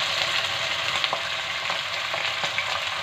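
Onion paste fries in a pan for egg korma, giving a steady close sizzle with a few light stirring clicks and no voices.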